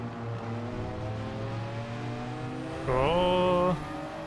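A race car in Gran Turismo 7 drones along under engine hum, then a sharp rising tonal squeal cuts in for under a second as it brakes hard before the engine note resumes.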